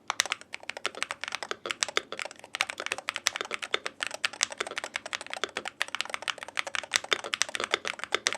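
Fast, continuous typing on an AK680 MAX mechanical keyboard, crisp close-up key clacks in a dense irregular rhythm with occasional deeper spacebar hits, no voices.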